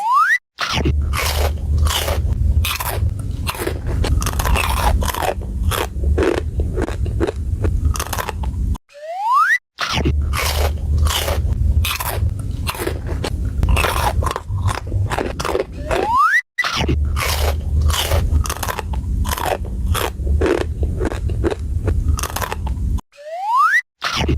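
Someone eats crunchy spicy snacks such as basreng and chips very close to the microphone, with rapid, loud crunching bites and chewing. Brief silent gaps and rising boing sound effects interrupt the crunching.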